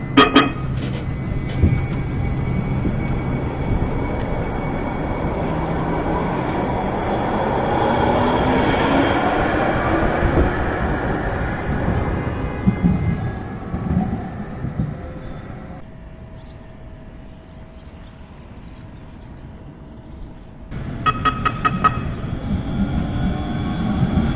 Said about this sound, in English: let's take a look at the other tram in New Jersey, which is the Hudson Bergen Light Rail